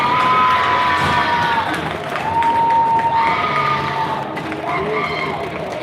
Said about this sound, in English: I think the cheering is for the fact that is the player starting to move up